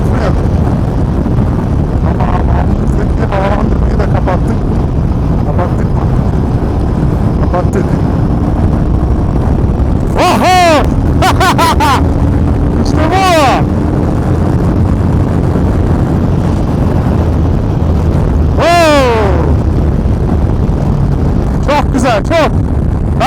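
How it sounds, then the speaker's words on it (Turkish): Loud, steady wind roars and buffets the microphone while riding along an open road on a trip between Çorlu and Kıyıköy, with passing vehicle noise and a few brief sharp tonal sweeps. "İçimden geçiyor rüzgar, çok güzel."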